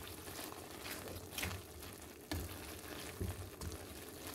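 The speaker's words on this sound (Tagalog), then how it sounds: "ilagay ko na yung repolyo at carrots" Cabbage and carrots sizzle in a pan for sotanghon with crab stick, a steady close frying crackle broken by a few louder stirring scrapes and clacks.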